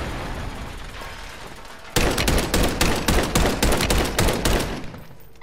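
Rapid bursts of gunfire from a Call of Duty match, loud and close, rattling in quick repeated volleys after a quieter lead-in of ambient game noise.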